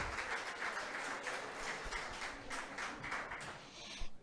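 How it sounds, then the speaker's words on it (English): Applause for student research presenters at a Pre-3MT graduate research event at a UK university, a steady crowd clapping at moderate distance that holds through the whole stretch with a few sharper claps near the end. "let's give a round of applause for all of our Pre-3MT presenters"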